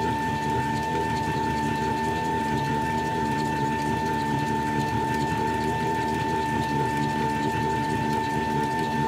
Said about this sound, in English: There's also a rubbing noise, which was never present during any of my off-camera tests.